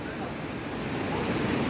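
Strong, rushing river current at Parshuram Kund in Arunachal Pradesh, a steady dense roar of flowing water with wind buffeting the microphone, loud and continuous throughout.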